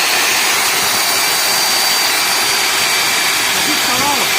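A vacuum cleaner motor runs loud and steady after its bearings have been replaced, a continuous high-pitched whine with a constant roar and a faint pitch wobble near the end as someone talks.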